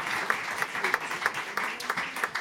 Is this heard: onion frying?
no